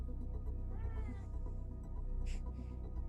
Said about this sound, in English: Oh, that's Jesse's cat.